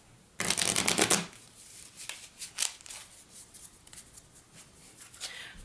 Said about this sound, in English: Let me shuffle this one up.